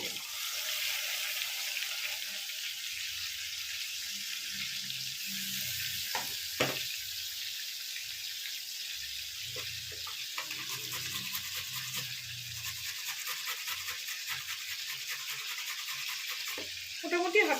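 Crushed onion hits hot oil for a Bengali prawn-stem curry (enchor chingri dalna), giving a steady hiss of frying that holds throughout, with faint clinks and low stirring knocks underneath.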